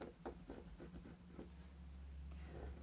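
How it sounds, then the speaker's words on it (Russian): Soft scratchy strokes of an ordinary school pencil tracing an outline on fabric for a sewn flag garland, repeated short rubbing bursts close by and faint, with no talking. "Хорошенечко обвожу."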